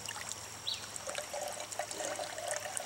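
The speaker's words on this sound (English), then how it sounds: "I'm going to take this and we're going to kind of swish it around in the water a little bit here and get it nice and full." Water trickles and sloshes quietly as a Stanley carry bag is swished around in it to fill, a faint continuous gurgle with small splashes.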